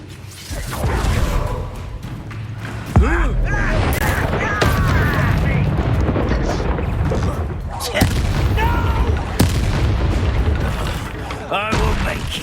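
Confringo explosive spells cast in the Hogwarts Legacy battle, several sharp booms and whooshes among clashing combat effects, with voices speaking between the blasts.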